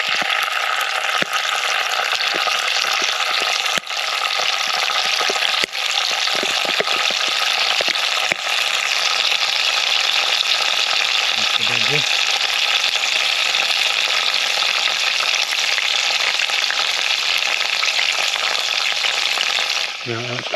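Homemade garlic and ginger paste fries in oil at a camp stove, a loud, steady sizzle and hiss that runs unbroken with a few faint clicks and a brief stir near the end.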